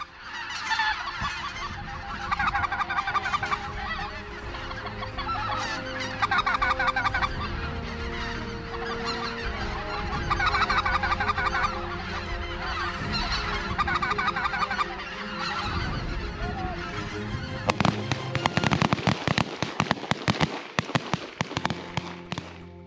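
A huge flock of thousands of geese honks in a dense, continuous chorus during an Arkansas waterfowl hunt, loud and unbroken throughout, with sharp sharp cracks near the end that sound like shotgun fire.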